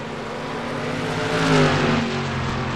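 Simulated race cars lapping New Hampshire Motor Speedway in a video game, a dense droning roar of engines that swells as the pack passes, with no talk.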